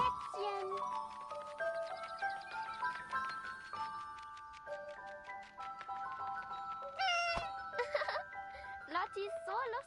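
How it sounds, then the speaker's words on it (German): A kitten meows repeatedly in the war game 11-11 Memories Retold, high rising and falling cries over soft game music and tinkling, with a voice speaking between the calls. "Kätzchen."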